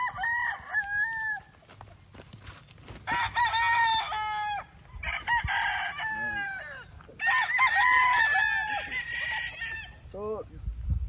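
Golden Boy Sweater gamecock roosters at a Philippine game-fowl farm crow repeatedly, several loud, close, drawn-out cock-a-doodle-doos overlapping one another, with clucking between calls and a low background hum.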